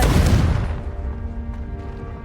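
A fiery Confringo spell blast in Hogwarts Legacy, a loud booming explosion right at the start that decays into a rumbling, crackling tail over about two seconds.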